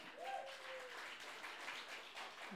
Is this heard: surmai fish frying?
no